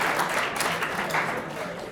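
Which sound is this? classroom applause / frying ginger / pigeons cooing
classroom applause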